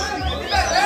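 A coleiro songbird singing at a bird song contest, its thin high warbling phrases carrying steadily over a low rumble of wind and outdoor background noise.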